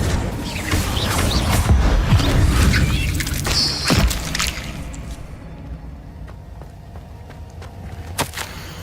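An Incendio fire spell in Hogwarts Legacy flares up with a rushing whoosh and a heavy burst, then fades to quieter crackles and a final sharp snap.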